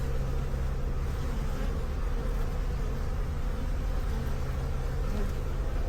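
Honeybees buzz busily around several beehives in a backyard apiary, a steady dense drone that stays loud and continuous throughout with no talking.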